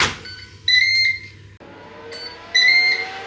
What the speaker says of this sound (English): And we've beeped.